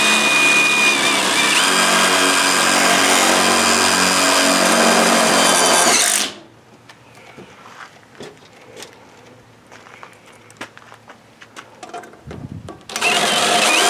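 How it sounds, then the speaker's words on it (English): A power drill whirs loudly and steadily for several seconds, then cuts off, leaving quiet handling clicks before it starts up again. "Drill."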